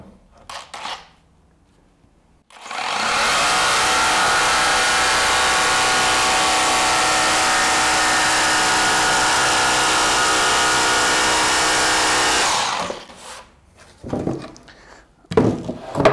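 A Bosch Pro jigsaw blade cutting through chipboard: a loud, continuous rasping saw roar for about ten seconds, with starts and stops of handling noise on either side.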